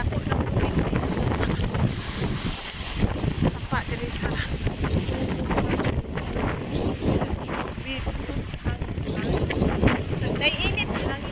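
Strong wind buffets the microphone at a lakeside beach in Como, a constant rough rumble with gusty swells throughout, while a person talks over it.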